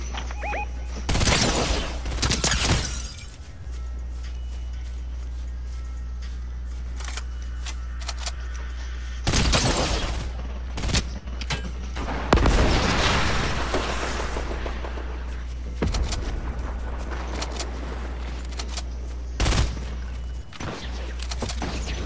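Bursts of gunfire crack out in the video game Fortnite, clustered volleys and single shots scattered across the stretch with quieter gaps between, over a steady low game hum.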